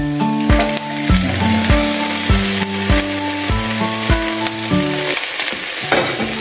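Mixed vegetables sauté in a hot pan, a loud continuous sizzle with repeated clinks and scrapes of a utensil stirring at a steady rhythm, no talk.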